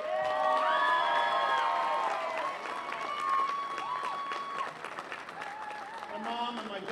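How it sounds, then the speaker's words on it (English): Crowd applause and cheering at a victory speech in Bridgeport, loud sustained clapping with whoops and shouts. Voices call out over it, and it tapers slightly toward the end. "Would you help me with a round of applause?"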